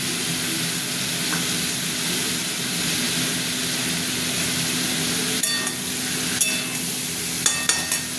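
Tomatoes frying in a pan with spice paste and poppy seed paste, a steady close sizzle running throughout with a few brief clinks of utensils near the end.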